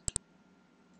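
A computer mouse gives two quick, crisp clicks close together near the start during a software install, followed by a faint quiet room hum.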